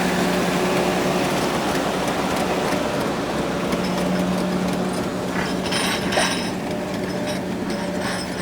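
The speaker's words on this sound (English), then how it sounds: "See, it's picking the back of that tractor up, but it's getting through it." A tractor engine drones steadily and loudly as it strains while ripping through ground, its low mechanical hum joined by grinding and rattling, with no voices.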